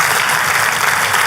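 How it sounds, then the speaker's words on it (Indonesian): Congregation applauding during a church sermon, a brief burst of loud, dense clapping that fills the space evenly for just over a second. "Kau kalau mau tepuk tangan, come on"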